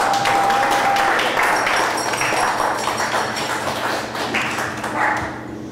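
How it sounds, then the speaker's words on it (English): Comedy club audience in Portland, Oregon applauding and cheering for the next act, a loud sustained wash of clapping that tapers off toward the end. "you have to give a little bit more applause than you did me."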